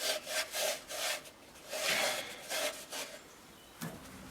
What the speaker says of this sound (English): so the rest is sanding.